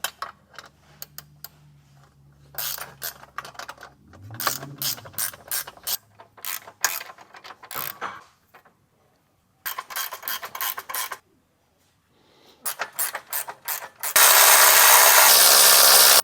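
A gear wrench ratcheting while bolting together a compact carrier for a Sprinter van, close clicking bursts in short runs with gaps, ending in a loud hissing noise.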